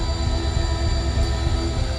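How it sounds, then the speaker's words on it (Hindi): A train on a railway line slows toward a halt, heard as a steady, heavy low rumble with faint sustained metallic whining tones above it, continuous and unbroken with no voices. "आखिरकार रेल रुक ही गई"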